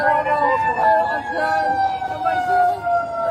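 A wailing ambulance siren arrives at an emergency scene, loud and close, its pitch sweeping steadily for a few seconds with no one speaking.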